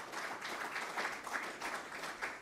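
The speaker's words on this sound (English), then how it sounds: "a round of applause for Coach Taylor and football program" An audience at a Hall of Fame media conference applauds the football program and Coach Taylor, giving a steady, dense patter of clapping across the whole stretch at a moderate distance.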